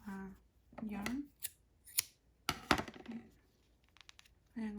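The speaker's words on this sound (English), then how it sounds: "Now I am going to cut the yarn" Scissors snip through crochet yarn in a few sharp, close cuts with light clicks and rustling, while a voice talks at moments between them.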